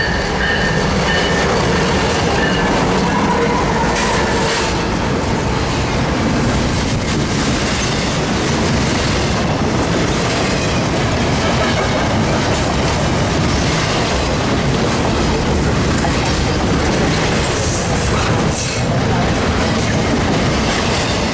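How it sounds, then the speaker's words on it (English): A Metra Milwaukee West commuter train, number 2709 bound for Elgin, rolls in close and loud, with steady clickety-clack of wheels and brief squeals over a constant rumble. "Milwaukee West train number 2709 to Elgin is arriving in approximately 4 minutes."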